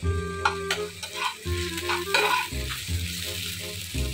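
Potato pieces frying in a pan with ginger, garlic and cumin paste for a shrimp curry with potato and eggplant, giving a steady close sizzle broken by repeated scraping stirs, with faint background music.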